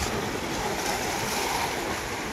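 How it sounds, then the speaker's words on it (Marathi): Sea waves wash and break against shoreline rocks in a steady, continuous roar of surf, close and fairly loud, with no voices. "बघा लाटा मारतात."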